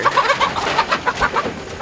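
A farm rooster and hens cluck in a quick, uneven series of close, loud, clipped calls, with no talking.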